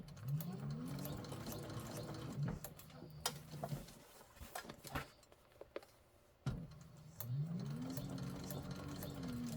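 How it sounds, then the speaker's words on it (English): A sewing machine stitches a handbag in quiet bursts of rapid mechanical whirring, running for a couple of seconds, pausing amid small clicks and handling noises, then starting up again. "And make sure you backstitch at the end."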